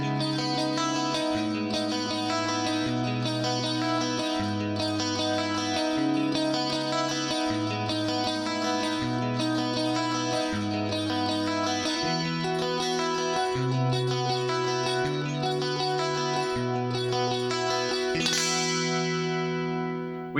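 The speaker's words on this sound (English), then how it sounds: "Just play some more clean chords." Clean electric guitar chords played through a Quad Cortex with a Rockman-style tone and analog delay, strummed steadily in a repeating progression, shimmering with chorus and echo trails, ending on a ringing chord.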